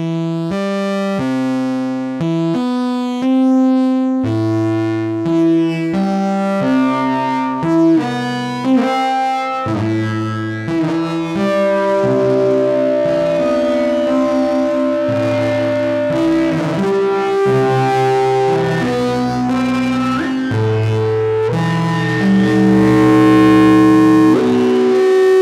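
A Soma Lyra-8 drone synth used as an effects unit with its drive turned high, producing gritty distorted sustained tones and plucked notes that shift pitch and overlap in a dense, harmonically rich wash.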